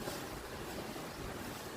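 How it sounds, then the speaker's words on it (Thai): Strong wind ahead of a storm sweeps across open rice fields in the evening, a loud, steady broadband roar that gusts continuously throughout with no voices. "ลมเข้ามาแล้วนะครับ ดูเหมือนจะเป็นพายุนะครับ"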